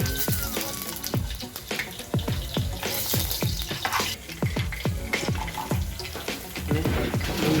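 Cashew nuts fry in oil in a home kitchen, a steady bubbling sizzle broken by a quick run of sharp clicks and taps from stirring throughout.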